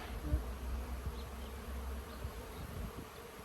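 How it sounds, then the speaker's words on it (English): A dense, steady hum of many honey bees buzzing close by in an open hive being split, a continuous low drone with individual bees occasionally standing out. "Lots of bees here"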